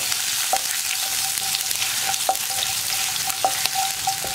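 Ginger and whole unchopped garlic cloves fry in oil in a pan for a Kerala okra and shallot tamarind curry, giving a steady close sizzle with scattered pops and light stirring, and no talk.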